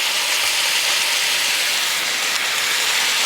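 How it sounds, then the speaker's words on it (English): Garlic dropped into a hot pan of onions for sloppy joes, a loud, dense, steady hiss of frying that fills the whole stretch without pause or voices. "So at this point we will put in our garlic."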